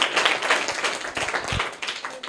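A seated audience at a quiz session claps briefly for a girl who gave the correct answer, a quick scattered patter of hands with a few louder individual claps.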